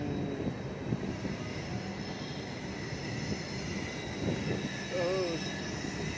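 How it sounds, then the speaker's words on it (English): Low rumbling train noise builds steadily as the Udhna–Danapur Express arrives at Itarsi, with a brief squealing whine near the end and faint voices in the background. "some train approaching."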